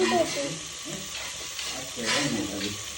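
Potato pieces fry in hot oil with masala gravy in a home kitchen, a steady close sizzle and bubbling crackle while someone talks over it.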